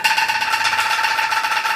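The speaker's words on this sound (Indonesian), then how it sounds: "Ini Bago bunyi, bambu goyang bunyi." Shaken bamboo instrument like an angklung, a fast rattling tremolo on one sustained pitched note, close and fairly loud.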